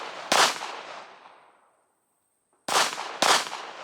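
Loud, close pistol shots during performance training: one sharp crack with a long decaying echo, a short pause of near silence, then two more quick shots in succession, no talking.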